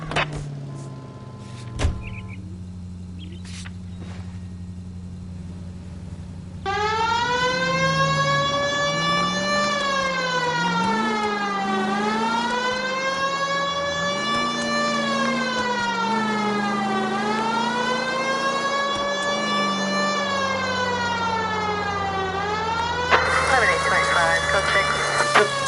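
An ambulance siren wails in the video game Detective Tank, rising and falling in long sweeping cycles over a steady engine drone, loud and close, with another tone briefly at the start.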